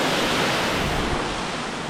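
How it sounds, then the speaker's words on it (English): Water gushes steadily from a leaking pressure-release pipe at a man-made falls in a nature reserve near Bulawayo, a loud continuous broadband rush close by, with no voices. "this pipe is meant to release pressure of water. But now it's leaking."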